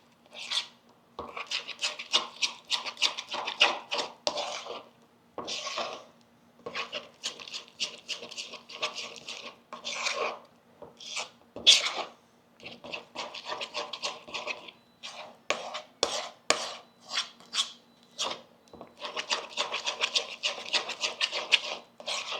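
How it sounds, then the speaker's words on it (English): Garlic being smushed and mixed in a bowl by hand: repeated rubbing, scraping strokes in uneven bursts with short pauses, close and fairly quiet, no talking. "You're going to smush your garlic."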